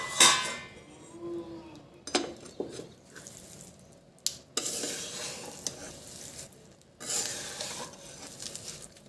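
Fried edible gum being stirred into adadiya pak in a pan, with scraping and clinking spoon strokes against the metal and soft sizzling in bursts, no voices.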